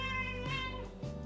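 A pet cat meows twice up close, first a long, clear, drawn-out cry, then a shorter one, both loud and alone, with no talking.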